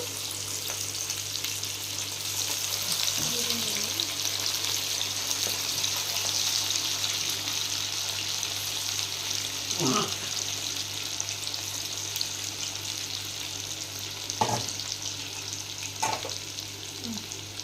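Chicken pakoda frying in oil, a steady, moderate sizzle running throughout with a few faint clicks and scrapes from a utensil, no talking.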